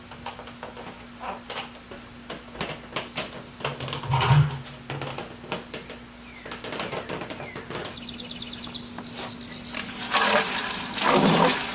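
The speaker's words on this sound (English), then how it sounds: "I'm just going to rinse it out quick." Water splashes and runs while a five gallon plastic bucket is rinsed out during a DIY chicken waterer build, with gurgling and sloshing that grows louder and fuller toward the end, nearby and with no speech.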